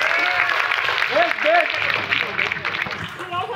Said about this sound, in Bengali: আর ভালো লেগে থাকলে একবার হাততালি